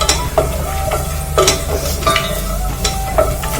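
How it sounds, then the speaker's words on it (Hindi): Cashews and almonds fry in hot oil for Mumbai-style kanda poha, giving a loud, close, continuous sizzle. A spoon stirs and scrapes the pan in repeated strokes. "काजू बादाम डाल रहे हैं। इनको अच्छे से ऑयल के अंदर"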